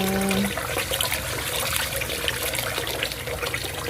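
Water splashes and swishes continuously as rice is rinsed for arroz caldo, a close, busy wet sound with a brief tone at the start.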